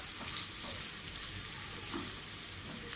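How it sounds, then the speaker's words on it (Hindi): Chopped onions frying in hot oil give a close, continuous crackling sizzle with no talk over it. "प्याज जो है वो आप गर्म ऑयल में डालें तो बहुत जल्दी फ्राई होगा।"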